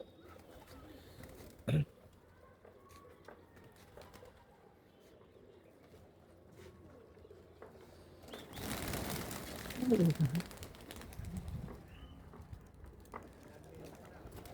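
Jalali pigeons kept by a fancier in Rajshahi coo softly in the background, with a louder, rolling burst of cooing rising briefly near the end over a low ambient hum.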